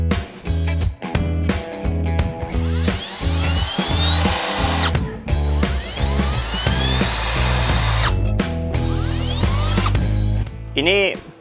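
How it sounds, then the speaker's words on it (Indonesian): A cordless power drill spins out small bolts from a Mitsubishi Lancer CK4 engine bay, whirring loudly in repeated bursts with rising and falling pitch, close by, with some speech in the workshop. "Ini kita belum pakai impact karena pakai drillnya saja sudah lebih dari cukup untuk membuka baut-baut yang kecil"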